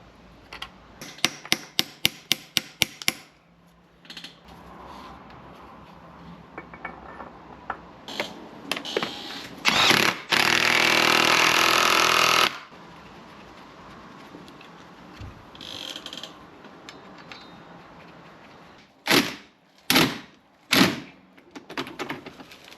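A hammer taps a seal into place on a BMW E61 xDrive in a home garage: a rapid run of sharp metallic knocks, a loud steady mechanical burst midway, then a few more spaced heavy hits.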